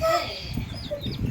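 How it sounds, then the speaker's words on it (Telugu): Small chicks and a hen at a rural home give short chirps and clucks nearby while people talk over them. "కోడి పిల్లలు ఎన్ని రెండేనా?"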